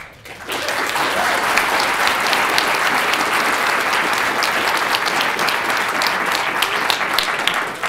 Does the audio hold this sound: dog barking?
no